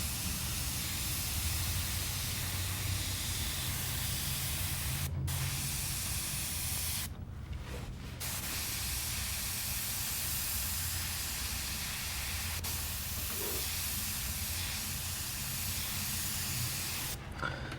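An airbrush sprays a purple paint mixture to clean up overspray on a skull artwork, giving a continuous close hiss. It cuts out briefly a few times as the trigger is released, and no one talks.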